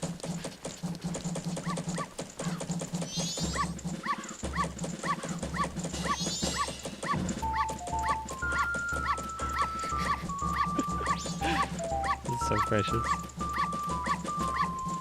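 A small dog in the Majora's Mask video game yips and barks in quick repeated bursts over bright, bouncy game music. A voice speaks briefly near the start.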